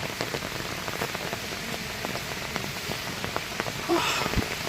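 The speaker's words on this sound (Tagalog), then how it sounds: "ang ulan walang tigil" Steady rain patters on a surface throughout, with individual drops ticking close by at an even, constant level.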